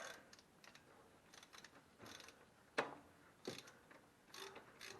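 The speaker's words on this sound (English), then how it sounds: "ratchet" A ratchet wrench tightens a socket onto a fastener, giving quiet, scattered clicks and short metallic ratcheting bursts close by, with one sharper click standing out.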